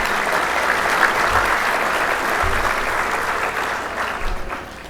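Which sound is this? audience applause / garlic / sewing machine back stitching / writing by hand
audience applause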